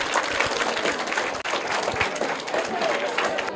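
Applause from a school audience greeting prize winner Vipin Yadav, a steady dense patter of many hands clapping alone, fairly loud throughout with no break.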